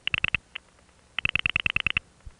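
Loud pulsing signals from a VZ2 telephone tandem switch on a 1975 panel-office routing call: a quick burst of about five sharp tone pulses, a pause, then a longer rapid train of about ten more, heard alone.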